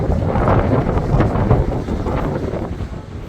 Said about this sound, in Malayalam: തണുത്ത കാറ്റാണ്